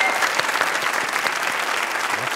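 Studio audience applause on a Pakistani comedy talk show, a dense, steady patter of many hands clapping at even loudness throughout, with no talk over it.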